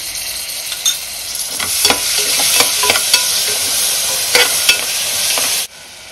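Spices such as cumin powder fry in a pan for tomato biryani. A loud, continuous sizzle carries repeated scraping stir strokes and then cuts off sharply near the end.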